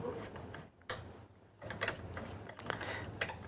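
Screw being driven in by hand with a screwdriver while a printer printhead is replaced: a few short mechanical ticks and ratcheting clicks, close and fairly quiet, over a low steady hum.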